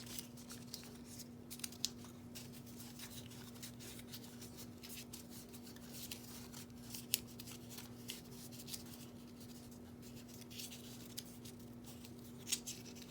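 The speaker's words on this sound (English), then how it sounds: "fold on the score lines like this" Paper is creased along score lines, giving soft close crinkles and brisk rubbing swipes that repeat in quick bursts over a low steady hum, quiet and without talk.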